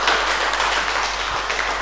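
An audience at a tourism COVID-readiness training session in Tonga claps and applauds steadily for a participant, a brief dense burst of hand claps with no one speaking.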